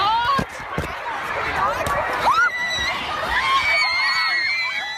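Panicked screaming from a fleeing crowd of mostly children and teenagers inside Manchester Arena after an explosion, loud shrieks and wails overlapping continuously with frantic shouting and babble throughout.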